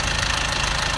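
The 2.7-litre Isuzu four-cylinder diesel, Euro 4 with electronic injection, in a 2018 Thaco Ollin 2.2-tonne box truck idles with a steady, even rumble and light knocking, heard close and alone.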